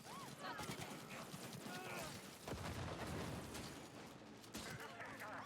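Gunfire in a video game fight where combatants clash with police, dense sustained shooting and crashing action noise throughout, with a voice speaking over it.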